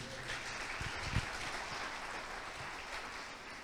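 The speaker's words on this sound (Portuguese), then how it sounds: "Então aplaude a palavra de Deus." A church congregation claps together during a Portuguese-language sermon, a full, even wash of applause that continues steadily and fades slightly toward the end.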